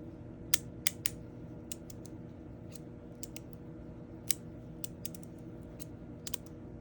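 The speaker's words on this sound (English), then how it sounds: "those plates you can barely hear sliding. Obviously you can hear the magnets snapping and stuff" Magnetic plates of a Compoform fidget toy snap together in sharp, isolated clicks, a dozen or so spread irregularly over a quiet, hissy background. The sliding of the plates is barely audible. The sound is close and faint.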